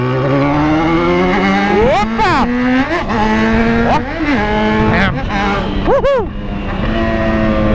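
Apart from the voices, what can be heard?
Yamaha XJ6 motorcycle engine revving loudly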